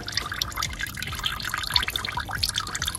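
Water drains from a detached coolant hose on a 2014 Audi A8 D4 3.0 TDI, a steady, close trickle and splash that continues for about three seconds.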